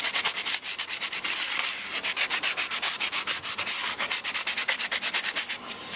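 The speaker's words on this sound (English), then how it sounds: "I'm going to just sand the back of the bow so it's a little rough" Hand sanding the back of a juniper bow with 60 grit sandpaper: close, loud, rhythmic rasping strokes in quick, even back-and-forth passes, with no talk.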